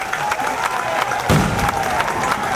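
A large crowd at a political rally in Tamil Nadu cheers and applauds, a loud, continuous roar of voices and clapping with a heavy thump midway through.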